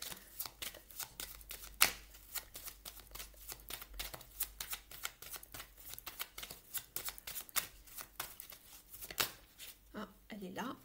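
Oracle cards from a Mystic Woods deck being shuffled by hand, a steady run of soft riffling flicks and slaps, fairly close and moderately quiet.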